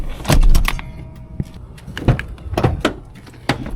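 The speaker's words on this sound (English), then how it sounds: "Open the door." A car door is opened during road trip packing, with close clicks, thumps and rattles of the latch and handle, a few sharp knocks spaced irregularly over the handling noise.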